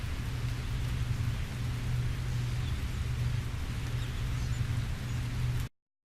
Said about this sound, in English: The rain continues to hurtle from the heavens.